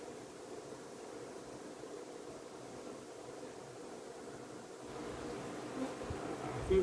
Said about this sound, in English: These bees working fast